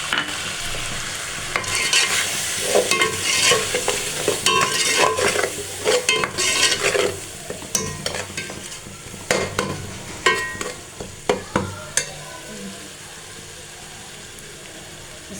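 Onions frying in a pan while being stirred for a home-cooked potato and egg dish, with steady soft sizzling and repeated scraping and clinking of a spoon against the pan, close and alone.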